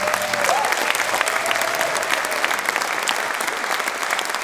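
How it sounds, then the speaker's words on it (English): Sustained audience applause for a jazz band at a live show, a dense steady wash of clapping that holds at an even level throughout with faint crowd murmur beneath. "Please give them a round of applause."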